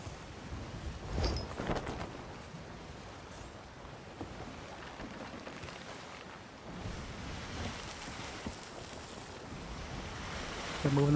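Ocean waves wash steadily around a sailing ship in a video game, a soft continuous surf and wind hiss at low level with no voices, swelling slightly near the end.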